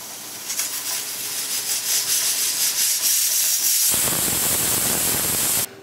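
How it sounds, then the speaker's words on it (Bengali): A stovetop pressure cooker making caramel pudding vents steam in a loud, steady hiss that shifts to a rougher, fuller rush partway through, then cuts off abruptly. "আমি প্রেসারের মুখটাকে বন্ধ করে সিটি দিয়ে দিলাম।"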